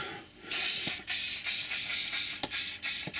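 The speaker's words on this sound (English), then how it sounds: "You're as well just putting some hairspray over when you've done." Hairspray hisses over model railway scenery in several close aerosol bursts separated by brief gaps, steady and fairly loud, with no talking.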